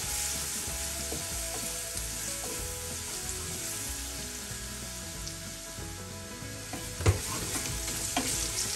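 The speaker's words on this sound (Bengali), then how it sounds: "তেল গরম হয়ে গেছে, রসুন দিছি, রসুন বাটি দিয়া ব্রাউন কালার হইয়া হলে আমি পেঁয়াজ কাটা দিলাম।" Garlic and onion frying in hot oil in a large pot, a steady close hiss and crackle with occasional stirring scrapes and one sharp knock near the end, no talk.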